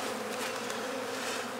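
Honeybees hum in a steady, dense buzz during a hive inspection of a failing beehive, close and continuous, with no talk over it.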